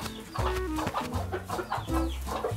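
Cartoon farm chickens cluck in quick, choppy bursts, several calls overlapping and falling into a bouncy, uneven rhythm, close and fairly loud.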